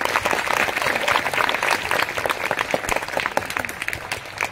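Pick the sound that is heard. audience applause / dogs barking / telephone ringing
audience applause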